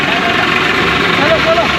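A tractor that has just crossed a river, its underside fully submerged, idles nearby with a steady, rumbling mid-low throb, heard briefly with voices around it.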